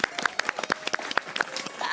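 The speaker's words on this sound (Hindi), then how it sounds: "हमारा स्वागत नहीं करेंगे क्या? ताली बजाइए।" An audience on a TV show set claps in a steady, even rhythm, sharp claps at a brisk regular beat, close and fairly loud.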